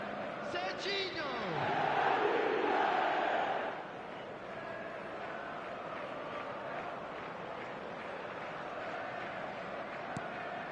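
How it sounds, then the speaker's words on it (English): A stadium crowd in an eFootball 2026 match on PS5 roars after a goal, the swell building loud for a few seconds and then easing into a steady, distant murmur, with a commentator's voice over it. "there's a real sense that the momentum has shifted here, Peter, and the crowd are reacting to that now"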